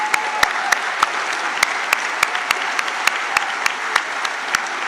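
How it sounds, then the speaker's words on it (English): A large indoor audience applauds steadily for several seconds, with many sharp individual claps standing out over a dense, even wash of clapping and no voices. "So I think just give yourselves a round of applause."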